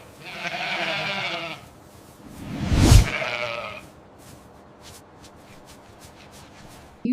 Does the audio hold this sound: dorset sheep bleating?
yes